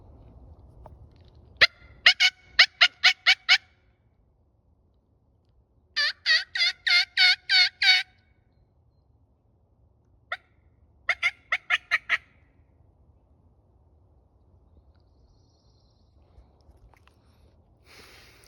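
Wild turkey gobbles and yelps ring out in several quick bursts from a distance, separated by quiet stretches.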